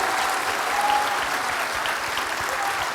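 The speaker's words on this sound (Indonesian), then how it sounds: "berikan tepuk tangan lebih keras lagi buat Tuhan Yesus" Applause from a church congregation at a worship service, a dense, loud, even roar of many hands clapping that holds steady throughout without pause.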